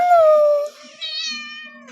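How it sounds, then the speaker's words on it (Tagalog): A pet cat meows twice, close and clear, the first call long and falling, the second shorter and higher. "ito nga pala ang pusa namin"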